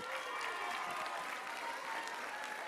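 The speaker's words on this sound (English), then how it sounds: "Give them a round of applause." A school violence prevention assembly audience breaks into dense, steady applause, a full crowd clapping loudly and evenly throughout with faint cheering mixed in.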